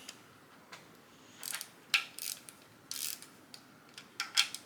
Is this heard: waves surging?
no